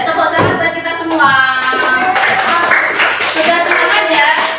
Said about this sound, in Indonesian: Ayo tepuk tangan buat kita semua.